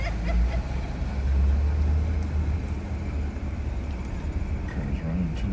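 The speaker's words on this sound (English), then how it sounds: "Car's running" A car engine runs at a steady idle during a roadside patrol stop, a low continuous rumble with voices faintly audible over it.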